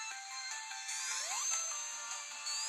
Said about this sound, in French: là, j'ai reçu une notification Nintendo